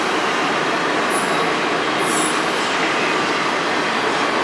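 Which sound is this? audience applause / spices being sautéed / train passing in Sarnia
train passing in Sarnia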